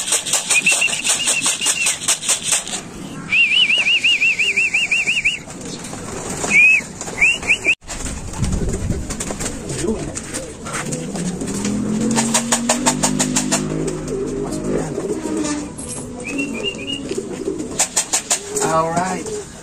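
Pigeons coo repeatedly at a loft after returning from flight in the evening, their calls close and clear, with some wing flapping, a faint engine in the background and someone speaking intermittently.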